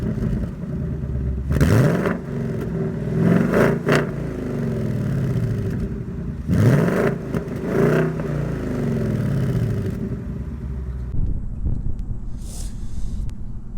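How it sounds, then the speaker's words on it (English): A 2021 Ford Mustang GT with Performance Pack 1 is revved at the exhaust, two pairs of sharp loud blips rising and falling close by, then settling to a rumbling idle before fading. "The exhaust is absolutely menacing, especially when we rev it up."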